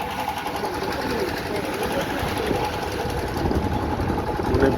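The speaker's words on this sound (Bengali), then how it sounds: "নৌকা যাচ্ছে" A boat engine passes on the Padma River at Mawa Ghat. Its rapid, steady mechanical chugging is close and fairly loud, growing louder toward the end.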